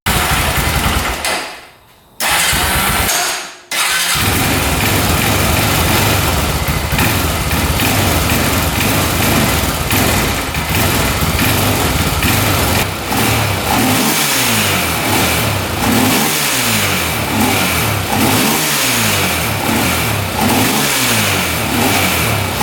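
A quad ATV with oil leaks starts up after a couple of short cranking attempts, then idles and revs repeatedly. The engine is loud and close throughout, and no one speaks.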